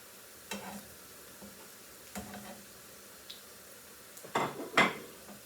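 Flattened plantain slices frying in a pan give a faint sizzle, broken by a few brief clinks and scrapes of a utensil against the pan, with louder handling near the end.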